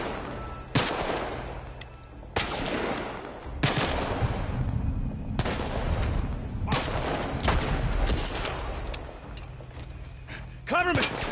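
Gunfire in The Last of Us, a series of loud separate shots spaced a second or two apart, each with a sharp crack and echoing tail, while people talk in between.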